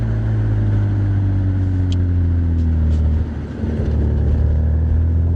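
A Porsche 987 Boxster's engine drones steadily from inside the car on a road drive near Windsor Castle, with a brief dip around the middle before the note picks up again.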